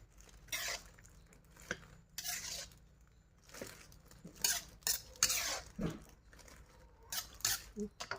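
A utensil scrapes and scoops cooked beans out of a pan in a home kitchen, several separate clinks and scrapes in irregular bursts, fairly close and moderately loud, with a little quiet talk between them.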